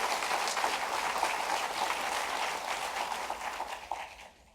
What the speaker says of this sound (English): Let us also give a round of applause to the Marine